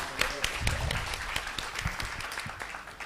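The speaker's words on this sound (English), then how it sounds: "Very big applause." Scattered applause from an audience at a talk on music and diplomacy, moderately close, with individual claps audible and a voice speaking over part of it.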